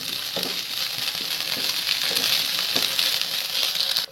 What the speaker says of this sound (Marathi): आता त्याच्यामध्ये जवळपास 1 चमचा अद्रक लसूणची पेस्ट आपल्याला टाकायची, त्याला देखील फ्राय करून घ्यायचं.